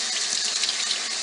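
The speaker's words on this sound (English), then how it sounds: "I'm going to rinse it in water that's about the same temperature as the yarn so that it doesn't melt." Tap water runs steadily as hand-painted dyed yarn is rinsed in water matched to the yarn's temperature, a continuous close hiss and splash with no talk.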